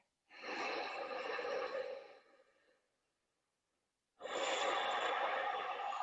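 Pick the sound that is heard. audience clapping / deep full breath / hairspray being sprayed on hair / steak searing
deep full breath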